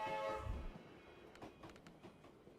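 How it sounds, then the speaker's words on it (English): A military supply train heading south in the video game Tactical Breach Wizards, with a deep rumble and a horn-like tone at the start that fades into a quieter rolling background. "Military supply train."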